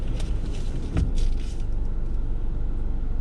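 A car's engine rumbles low and steady up close as it reverses during beginner parking practice, with a couple of short knocks early on and no talk.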